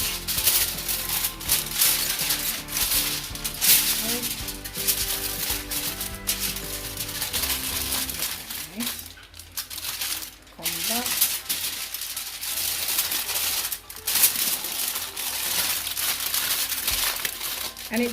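Aluminium foil crinkles and crumples continuously as it is folded around a callaloo-stuffed fish for Jamaican-style oven roasting, with close, busy rustling throughout and occasional sharper crackles.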